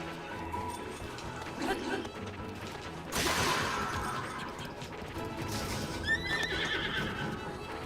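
A horse whinnies amid clattering sounds from Zelda: Breath of the Wild and a sudden crashing burst, with someone talking over the top.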